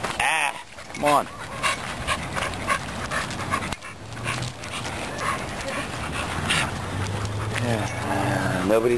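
A dog pants rapidly and whimpers up close while a person talks over it in an encouraging tone.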